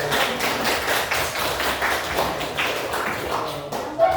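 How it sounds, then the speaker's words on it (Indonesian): A class of pupils clapping their hands together in a rapid, steady run of claps that fills the room. "kasih tepuk tangan dulu"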